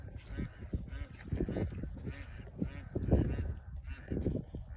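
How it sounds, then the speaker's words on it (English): A group of ducks on a homestead keeps up a busy, overlapping chorus of quacks and honks, close by and moderately loud, with no pauses. "I hear my ducks over here talking."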